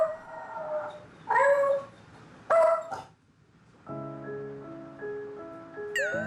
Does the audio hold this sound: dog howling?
yes